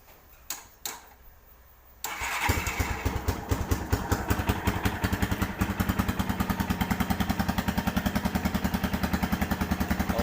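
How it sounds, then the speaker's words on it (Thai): A Honda Phantom 200 custom motorcycle starts after a few clicks, then settles into a loud, steady, rapid-thumping idle close by. "ครับผมก็เดี๋ยวมาลองติดเครื่องกันดูนะครับ"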